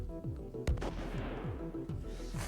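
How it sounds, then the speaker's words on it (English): Gunshots in the video game 1000xRESIST, with a sharp loud shot near the start and repeated percussive bursts over a low rumbling, echoing game soundscape, without talk. "Those gunshots, right?"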